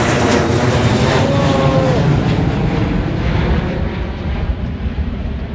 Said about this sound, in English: oh, is it a plane?